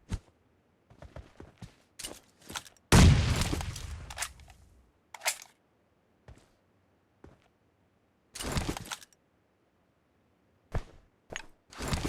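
Gunfire in a solo-versus-squad battle royale match, with scattered sharp cracks and one heavy blast with a trailing rumble, separated by near silence.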